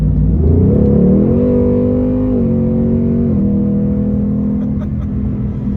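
A 2021 Ford Mustang Mach 1 V8 engine revs up, holds a steady high growl, then settles back down, its deep rumble close and continuous.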